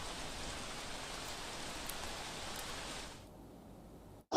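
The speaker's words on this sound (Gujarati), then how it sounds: "સુરત સહિત દક્ષિણ ગુજરાતમાં ભારે વરસાદ વરસી રહ્યો છે" Heavy monsoon rain pours steadily in Surat, South Gujarat, a dense even hiss of downpour that cuts off abruptly after about three seconds, leaving near silence before a brief loud bump at the end.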